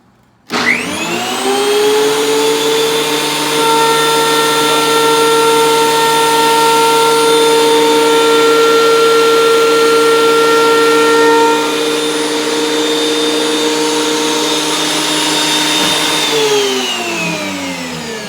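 A DeWalt 12.5 inch benchtop planer starts up and runs at a steady loud whine for about fifteen seconds while wood feeds through, then winds down near the end. No talking.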